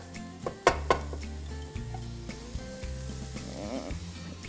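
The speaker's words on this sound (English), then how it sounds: "So let me get the linguiça just fried up a little bit." Linguiça sausage fries in a pan on a home stove, a soft steady sizzle close by, broken by a few sharp clinks of a utensil against the pan.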